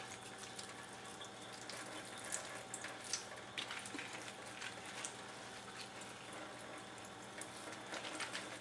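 Liquid from thawed spinach is poured out and squeezed by hand, giving a faint, steady trickle of water with a few soft splashy spikes, quiet and close.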